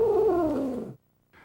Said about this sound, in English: the cat may be hissing or growling